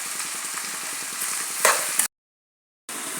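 Onions, green chillies and curry leaves fry in a hot pan, a steady close crackling sizzle with a couple of brief stirring scrapes, then a short silence before the sizzle returns.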